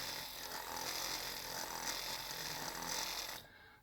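The electric window motors of a 1967 Thunderbird are run on test after being repacked with marine grease. A loud, rough, continuous grinding drone holds steady for several seconds and then cuts off abruptly, close by and with no talk.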